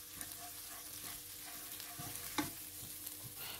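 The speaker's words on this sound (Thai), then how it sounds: "ผัดพริกแกงเผ็ดให้แตกออกมาให้หมดเลยนะครับ" Steady sizzling of red curry paste stir-frying in a hot pan, with soft scraping as it is stirred and an occasional clink of the utensil, no voices.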